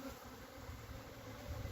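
Honey bees humming inside a hive as a new generation emerges, a steady, close, continuous buzzing drone with no talk.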